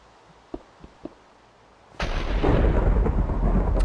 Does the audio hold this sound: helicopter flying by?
no